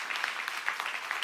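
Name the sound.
applause welcoming newcomers in church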